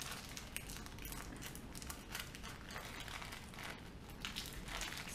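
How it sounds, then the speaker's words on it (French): Baking paper peeled away from a freshly baked chocolate Yule log sponge cake, giving a steady close crinkling and crackling rustle that runs continuously with a few louder tearing bursts. "Je vais décoller mon papier cuisson."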